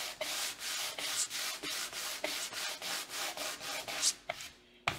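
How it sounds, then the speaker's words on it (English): Rough 60 grit sandpaper rubbed over painted lettering on a pumpkin, a close series of rhythmic scratchy back-and-forth strokes, loud and alone. "this is 60 grit sandpaper, and we're gonna go right over our lettering."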